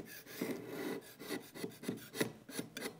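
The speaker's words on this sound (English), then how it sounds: "I'm just going to scrape away" Scraping strokes rasp as dried filler is scraped off MDF board, a series of short, uneven scrapes in an irregular rhythm, fairly close and moderately loud.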